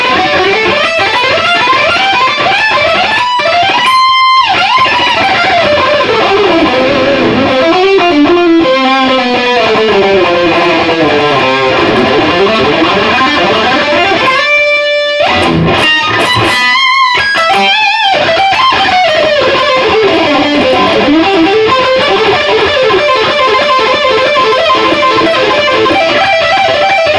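An electric guitar runs through a heavily distorting overdrive effects pedal, playing loud, saturated, sustained notes and sliding bends with a few brief choppy bursts, played alone with no talking.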